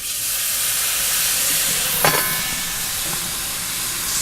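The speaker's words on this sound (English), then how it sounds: "Beer steamed brats ready to come off" Bratwursts steam in beer under a cloche on a hot iron surface, giving a loud continuous hiss and sizzle with a brief sharp clank midway, no talking.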